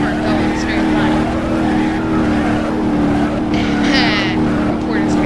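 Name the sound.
Bruckle Moonhawk car driving in video game BeamNG.Drive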